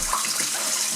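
Hot tap water runs steadily into a bowl for washing makeup sponges, a continuous close hiss of flowing water filling the whole second without speech.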